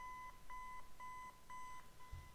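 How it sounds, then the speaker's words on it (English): Five Nights at Freddy's 4 alarm clock ringtone: clean repeated electronic beeps in short, evenly spaced pulses, quiet and alone, with a faint thump at the end. "I actually have a clock with this ringtone."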